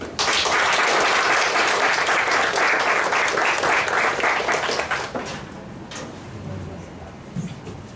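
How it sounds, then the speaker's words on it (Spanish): Audience applause fills a hall at a spiritist group's fifth anniversary event in Guatemala, loud and dense at first, then thinning and fading over the last few seconds. "Por favor, un fuerte aplauso."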